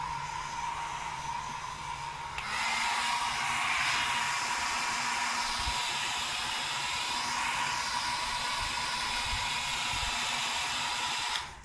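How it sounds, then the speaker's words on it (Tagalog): A hair blower dryer runs with a steady, loud whooshing hiss that grows louder after a moment and stays constant before cutting off at the end, with no talk over it. "Itong blower na to."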